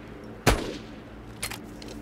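Auto cannon gunfire in a shooter video game: one sharp, loud burst followed by a second, fainter shot about a second later.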